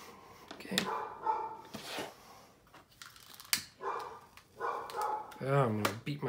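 A dog barks and yips in a few short, sharp bursts, with people talking in between and over the barks indoors.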